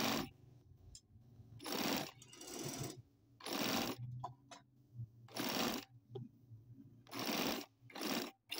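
A sewing machine stitches the neckline of a kameez in short, rhythmic bursts of rapid mechanical whirring, each lasting about a second, separated by brief pauses and quiet handling, close and alone.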